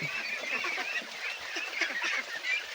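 A flock of farmed ducks quacks and honks close by in a dense, overlapping chorus that runs without pause.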